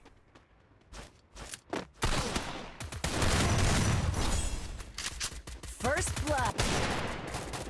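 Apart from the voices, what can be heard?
gunfire in Free Fire video game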